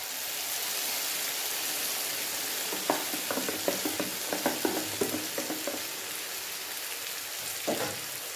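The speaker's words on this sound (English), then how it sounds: "I will add my blended tomatoes." Blended tomatoes go into a pan of frying sausage and bean stew, and a steady low sizzle breaks into a cluster of sharper crackles and spits before easing back to a gentle fry.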